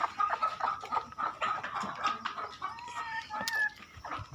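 A Kadaknath hen on a Punjab farm clucks repeatedly in short, close, rhythmic calls, with a few drawn-out vocal notes mixed in and no talk over them.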